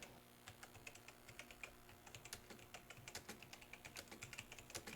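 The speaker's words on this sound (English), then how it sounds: "I'm typing." Fingers type on a computer keyboard during a live stream, a quiet run of quick, irregular keystroke clicks over a low background hum.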